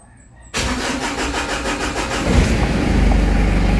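A Ford Everest engine cranks and fires after a quiet start, catching abruptly, then settling into a loud, steady idle that rises in revs toward the end, close to the listener with no talk.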